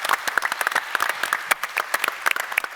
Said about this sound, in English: Let's have a double applause for them and for Andreas Lessmann